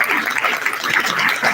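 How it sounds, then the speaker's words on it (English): A storytelling event audience keeps up a sustained, even round of applause, a close and continuous wash of many clapping hands with no voices over it. "Keep that applause going for all the storytellers that shared their stories tonight."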